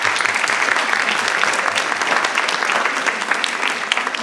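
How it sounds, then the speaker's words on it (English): Steady, dense applause from the audience at a school board meeting, loud and sustained across the whole stretch with no talk over it. "let's give them a round of applause as well"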